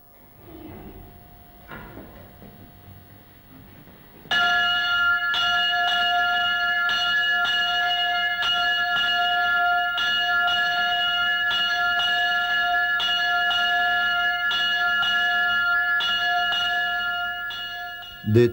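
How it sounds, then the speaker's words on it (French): A monastery church bell rings at Sept Fons abbey to call the monks to the early morning office. After a quiet start, steady, resonant strokes begin and carry on without a break, loud and ringing, with no voices. "la cloche réveille les moines et les amène à l'église"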